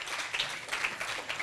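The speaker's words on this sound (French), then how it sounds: "On applaudit très fort." An audience at a televised May Day event applauds, a dense, steady wash of clapping from many hands, moderately distant and fairly quiet throughout.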